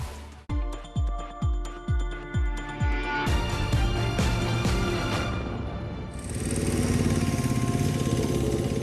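Motorcycle engine heard close up: a run of about six rhythmic cranking pulses, then it catches and roars into a loud, sustained rev that stays strong to the end.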